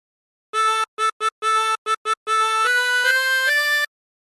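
Chromatic harmonica plays a short phrase of Drunken Sailor as a run of clean, reedy notes, several brief separate tones and then a longer held passage stepping up in pitch, solo and close.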